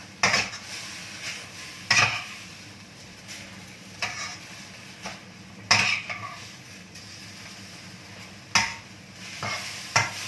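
Tray-style sukiyaki with vegetables and squid cooking in a pan as egg goes in: steady soft sizzling with several sharp utensil clacks and scrapes against the pan at irregular intervals, close and clear, no talking.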